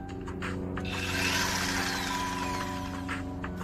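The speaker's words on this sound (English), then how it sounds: "Yeah, I think this is a drill." A power drill whirs continuously for a few seconds during a van rebuild, its close, steady mechanical whine rising slightly then easing off.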